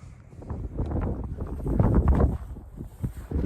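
Gusty wind buffets the microphone with a rough, rumbling roar that swells and eases over a few seconds.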